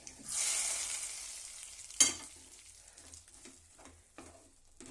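Mustard seeds sizzle loudly in hot oil for the tempering of an okra kurma. A sharp knock partway through is followed by fainter spoon scrapes, and the frying fades toward the end.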